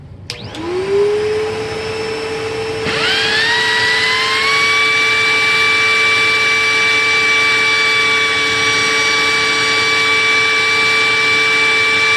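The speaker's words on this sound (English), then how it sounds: "That sounds like a lot of airflow, because it is a lot of airflow." A ProTeam SCM-1282 vacuum runs in an airflow box test. Its motor spins up with a rising whine, then holds a loud, steady, high-pitched roar up close.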